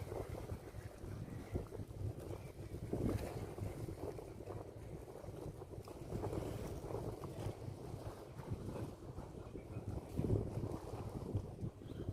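Steady wind rushes and buffets the microphone at a hilltop viewpoint by a shrine at Ang Sila, Chonburi, a continuous low roar with gusts swelling around three and ten seconds and no talk.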